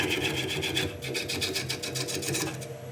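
Wood lathe roughing the outside of a wooden bowl, a close, loud, rhythmic rasping of the gouge pulsing rapidly as the spinning blank passes the tool.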